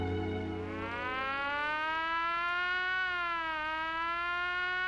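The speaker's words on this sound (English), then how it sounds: "What a wimpy little siren." A thin, weak-sounding siren from a film plays alone for about five seconds, with its steady wail bending slightly in pitch and no talk over it.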